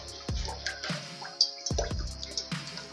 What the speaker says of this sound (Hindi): अब हम एक पतीली में 1 लीटर सरसों का तेल डालेंगे।